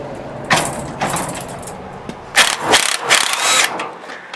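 A 9/16 impact wrench loosening an old bolt on a one-piece garage door, giving short bursts of rattling mechanical hammering with brief pauses between, close and moderately loud.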